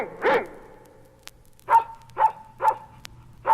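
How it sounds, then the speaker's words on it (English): Sam, a big hairy dog, barks hoarsely as if he had a bad cold, one rough bark followed by four evenly spaced raspy barks, close and clear. "Sam, a big hairy dog, barks like he has a real bad cold."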